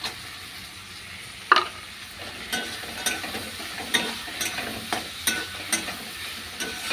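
Fish sizzles in hot oil and spices in a pan while being stirred, with repeated scraping and clattering strokes over a continuous, close frying hiss.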